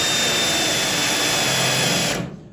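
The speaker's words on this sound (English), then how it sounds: "I'm drilling out all these spot welds I can find" A spot weld drill bit grinds steadily into the roof of a 1968 Camaro to drill out spot welds. A loud, continuous whirring drone from the drill stops abruptly near the end.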